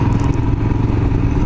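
A Royal Enfield Himalayan motorcycle rides along a smooth, flat dirt track recently scraped by a tractor in the mountains of southern Spain, its engine giving a steady, loud, close rumble with some clattering and no talk.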